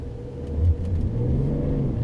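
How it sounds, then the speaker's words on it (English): A BMW with traction control switched off, its wheels spinning on snow and ice: a steady, low engine rumble that swells slightly as it revs, fairly close, with no speech. "All four wheels are spinning on the ice."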